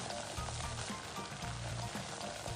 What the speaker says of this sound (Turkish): İyice kavuruyorum unun kokusu çıkana kadar